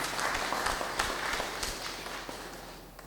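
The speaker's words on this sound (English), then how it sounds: "Give her a round of applause" An audience applauds a speaker walking to the podium at a health training event, steady clapping across the room that tapers off toward the end.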